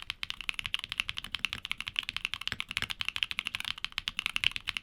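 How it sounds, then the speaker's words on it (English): Keygeek Lake mechanical keyboard switches with a polycarbonate top and PBT bottom housing, typed in a fast, even stream of sharp, resonant clacks, close and fairly loud, with no voices. "Its polycarbonate top and PBT bottom housing combination creates this incredibly distinctive resonance."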